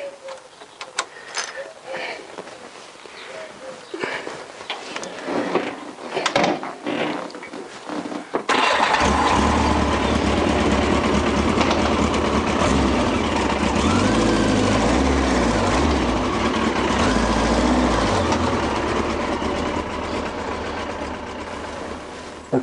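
Yamaha XJ900S Diversion motorcycle warming up: after several seconds of scattered handling noise, the engine settles into a steady, even idle with a low, rumbling pulse that holds close by to the end.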